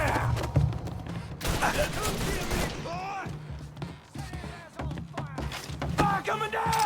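A Mafia III shootout: volleys of gunfire crackle over a dense backdrop of game music and shouting voices, continuing steadily throughout.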